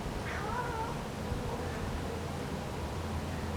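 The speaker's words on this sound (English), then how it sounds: "This is my muscular cat, Troy" A muscular spotted cat meows in two short, faint calls near the start over steady hiss and low rumble, then stays quiet.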